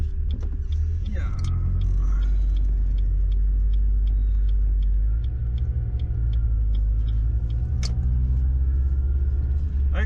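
A car drives along a road through West Waco, Texas, with a constant low engine and tyre rumble heard from inside, loud and steady, with a voice talking briefly near the start.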